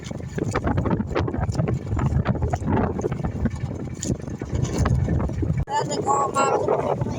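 Strong morning wind buffets the microphone in a constant roar while someone talks over it while fishing, with water and boat noise underneath.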